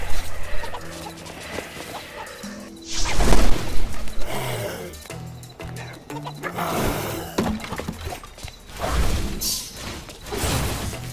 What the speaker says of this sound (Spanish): Mira la gallina salta.